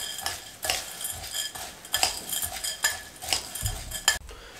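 A spoon scrapes and clinks through spiced chana daal and lemon in a dish, giving a run of close, irregular metallic clatters and rustles with short pauses between strokes.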